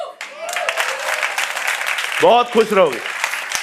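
An audience claps in applause at a talk, a dense patter of hands running through the clip with a voice speaking loudly over it.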